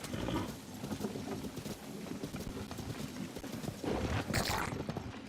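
Horse hooves in the video game Zelda: Tears of the Kingdom, a steady clip-clop of a ridden horse at a trot, fairly quiet and continuous, with a brief louder burst near the end.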